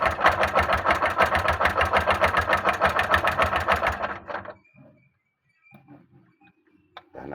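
A tuk-tuk engine with a faulty exhaust pipe runs with a loud, rapid, even chugging for about four seconds, then cuts out, leaving only faint scattered clatter.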